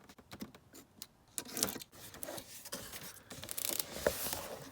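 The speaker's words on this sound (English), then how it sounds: "Let's get him cut open here." Close-up cutting and slicing into the cardboard and plastic packaging of a Hot Toys Boba Fett action figure box, original 1977 Star Wars color style, with irregular clicks, scrapes and crinkly rustles in short bursts, moderately loud with no talking.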